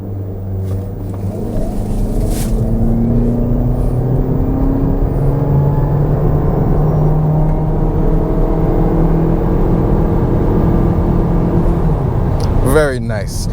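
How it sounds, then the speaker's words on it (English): A 2026 Jeep Cherokee Overland launches hard from a brake-boosted standstill in a 0 to 60 run, its engine building into a loud, continuous rising drone over a low road rumble that holds for several seconds. "We're gonna brake boost it and do a 0 to 60 test now."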